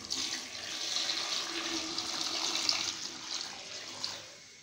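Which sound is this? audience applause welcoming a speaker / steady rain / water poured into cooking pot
water poured into cooking pot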